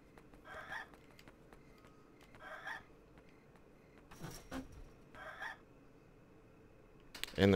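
Chickens in the video game Yomawari: Night Alone, short clucking bursts repeating every couple of seconds, with a few soft clicks and a louder thump near the end.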